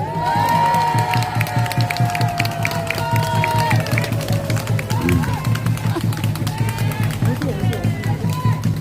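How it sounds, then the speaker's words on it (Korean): A crowd at an outdoor political rally outside Gwacheon police station claps and cheers in a steady, dense wash, with a loud amplified voice speaking over it throughout. "날이 더운데 박수라도 열심히 쳐야지."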